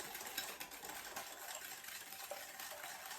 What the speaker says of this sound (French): Et je vais venir fouetter jusqu'à temps d'obtenir un appareil